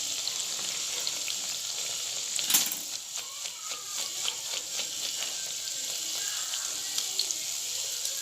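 Batter on a rose cookie mould frying in hot oil for eggless rose cookies, a steady close bubbling sizzle throughout with a brief louder splash of sputtering as the mould goes in.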